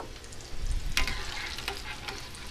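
Boiled potatoes for steak frites fry in hot oil, crackling and sputtering. A dense, close sizzle continues throughout, with bursts of popping along the way.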